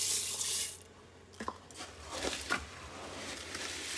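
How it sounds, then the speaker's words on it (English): Two cups of dry rice pour into an Instant Pot set to saute for pork rice, giving a rushing, rattling spill at the start, then a few scattered patters and faint rustles. "I'm going to add my rice. And 2 cups of rice."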